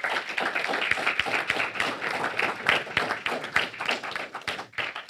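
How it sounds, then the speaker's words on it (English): An audience at a cooperatives panel discussion in St. Kitts applauds the panelists: a sustained round of clapping from a modest crowd in a hall, steady for several seconds before tapering off. "give them a round of applause."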